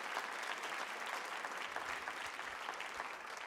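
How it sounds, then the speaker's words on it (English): Steady applause from an audience at a school spring instrumental concert, a fairly distant wash of clapping that holds evenly throughout with no speech. "So let's give them a round of applause for being involved."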